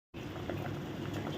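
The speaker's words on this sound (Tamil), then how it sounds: "நல்லா தேவையான அளவு தண்ணி ஊற்றி இந்த மாதிரி நல்லா அவிய வச்சாச்சு" Sweet corn simmering in plenty of water in a kadai gives a steady, close bubbling patter that continues evenly with no voices.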